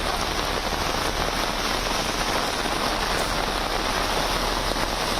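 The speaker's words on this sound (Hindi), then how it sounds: "ये तस्वीरें आप देखिए, कितनी बारिश।" Heavy monsoon rain pours steadily in Mumbai, a dense, constant hiss of rainfall on surfaces filling the whole stretch with no voices.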